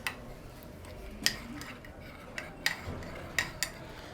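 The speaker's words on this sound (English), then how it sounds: "So we're going to mix this very well." Sweet and sour sauce with soy sauce is mixed in a bowl, giving faint, scattered clinks and light scraping of a utensil against the dish, quiet and intermittent.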